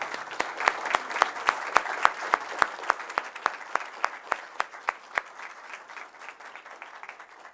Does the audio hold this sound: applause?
yes